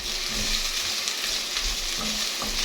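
Garlic and onion sautéing in oil in a pan for pork igado, a steady close sizzle with occasional stirring scrapes.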